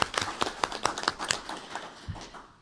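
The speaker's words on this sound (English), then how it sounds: "I wanted to ask for a round of applause for Fayetteville Public Library and Kelly Haley for organizing." A small audience claps at a library event honoring the organizers, a brief burst of sparse, uneven hand claps, close and fairly loud, that quickly thins out and fades.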